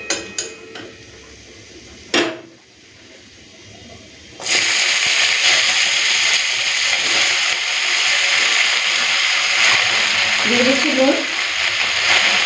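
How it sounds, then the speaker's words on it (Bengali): Malabar spinach dropped into hot oil with garlic and dried red chilli: after a clatter, a loud steady sizzle and crackle of frying starts abruptly and continues, with a brief faint voice-like sound near the end. "তো তেল গরম করে নিয়েছি ভালো করে এরপর দিয়ে দিচ্ছি থেতে করে রসুন গরম করে রসুন আর শুকনো লঙ্কাটা পুরো লাল করে ভেজে নিয়েছি এরপরে দিয়ে দেবো পুঁই শাক"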